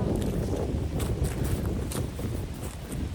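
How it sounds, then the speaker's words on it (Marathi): Steady wind blows across a Konkan village on the way to a well, a continuous broad rushing with light buffeting against the microphone and no voices. "मस्तपैकी असा वारा सुटलाय हा बघा"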